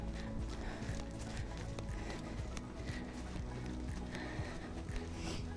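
A horse on a snowy outdoor arena gives off soft, steady hoofbeats, muffled thuds repeating at a walking or trotting pace. The sound is fairly faint and continuous against a low background rumble, with no speech.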